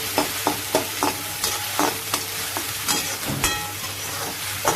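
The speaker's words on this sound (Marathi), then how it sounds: "तेल कडले आपण हे कांदा आता त्यात टाकून घेऊ" Chopped onion dropped into hot oil in a heated kadhai fries with a steady loud sizzle, punctuated by regular clinks and scrapes of a spoon stirring, all without any talking.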